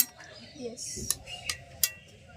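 Boiled potatoes lifted a few at a time out of a pot, with three or four sharp metallic clinks of a utensil against the pot over a soft background and a faint voice.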